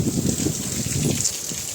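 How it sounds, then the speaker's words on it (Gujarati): Light rain falls steadily outdoors during a monsoon shower, a soft continuous hiss with faint patter and trickling water and no voices. "હવે થોડો ધીમો વરસાદ આવે છે"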